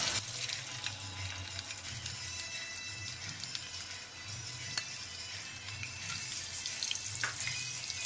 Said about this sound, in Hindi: घी डाल के हमने इसको बहुत अच्छी तरीके से भूनना है